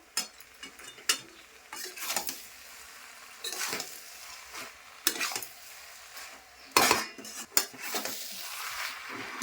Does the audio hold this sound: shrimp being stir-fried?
yes